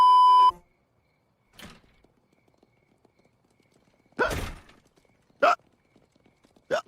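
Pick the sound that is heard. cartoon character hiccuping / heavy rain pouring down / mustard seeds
cartoon character hiccuping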